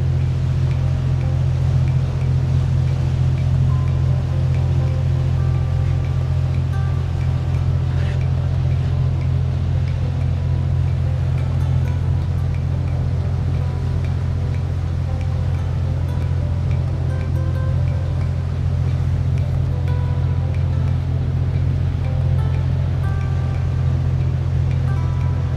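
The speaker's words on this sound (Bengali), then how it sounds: "তো আমরা এখন বোট ছেড়ে দিছে, আমরা এখন আস্তে আস্তে আবার ব্যাক করছি।" Boat moving slowly across a lake, with a steady low engine drone and continuous water wash that stay loud and unbroken throughout.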